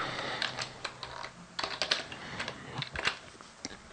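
Rapid typing on a computer keyboard during Python coding, a close, irregular clatter of key presses with short bursts and brief pauses, no voices.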